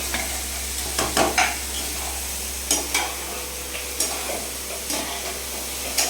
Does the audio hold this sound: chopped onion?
yes